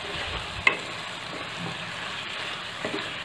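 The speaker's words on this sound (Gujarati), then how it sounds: "હવે તેની અંદર આપણે કેપ્સિકમ ઉમેરીશું, તેને પણ આપણે મિક્સ કરી લેવું." Capsicum being stirred into potatoes frying in a pan: a soft, steady sizzle with an occasional scrape or tap of the spoon, fairly quiet and without talk.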